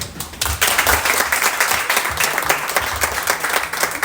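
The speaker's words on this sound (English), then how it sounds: "Come on, clap again" A crowd applauds at a softball association opening ceremony, with dense, energetic clapping that swells after a brief quieter start and carries on for several seconds.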